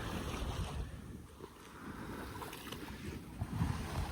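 A solo sailboat beating upwind on the open Atlantic between Gambia and Cabo Verde, with steady wind rush, microphone buffeting and the wash of waves against the hull, fairly quiet and continuous with no talk.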